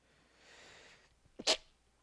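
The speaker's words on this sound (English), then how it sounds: "that sneeze came out of nowhere" A single sharp sneeze, preceded by a faint breathy inhale, close and sudden against quiet.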